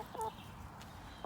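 Hens cluck in short bursts close by while feeding on frozen tomatoes over plastic netting laid on dirt, with a soft steady background between the calls.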